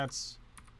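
Computer keyboard keys clack during a live programming game session, with a sharp press at the start and a couple of lighter taps shortly after, close and fairly quiet.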